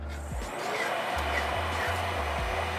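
A blender at higher speed purees kabocha squash curry sauce, a steady loud motor whir that holds evenly throughout with no voices.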